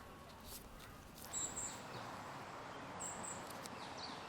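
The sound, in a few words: birds singing in city park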